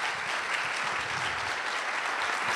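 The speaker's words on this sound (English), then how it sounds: "So give yourselves a round of applause." Steady, full applause from a large audience at a talk fills the whole moment, an even wash of many hands clapping with no gaps.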